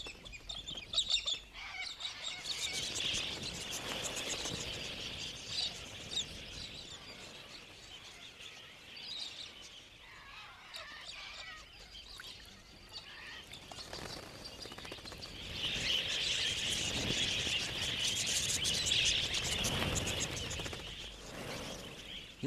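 Wild Australian galahs call as a flock, a steady chorus of harsh, scratchy screeches and chirps that swells louder in the second half.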